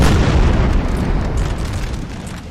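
Booming artillery fire from a Napoleonic-era battle in Napoleonic Total War 3, heavy continuous low rumble of cannon blasts blending together, loud and sustained without clear gaps.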